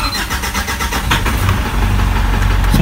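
A car engine cranks and starts during diagnosis of a crankshaft position sensor fault (code P0336), with the crankshaft position sensor removed from underneath; loud, close, rough running with a steady low rumble throughout.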